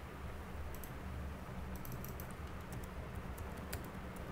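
Text being typed on a computer keyboard, a quiet run of light, irregular key clicks that cluster and pause over steady background hiss.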